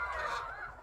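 Backyard chickens kept at home give a brief, close, throaty call, a single short warbling cluck under a second long.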